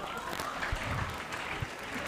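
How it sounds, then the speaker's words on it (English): Steady applause fills the clip, a continuous patter of many hands clapping at moderate loudness with some murmur underneath. "A round of applause for her"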